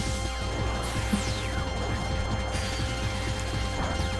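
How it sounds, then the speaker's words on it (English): Dragon Breath attack in the video game Pokémon Black, a dense mechanical crashing effect with sweeping pitched tones and rattling, steady and fairly loud over game music. "Let's go for that Dragon Breath!"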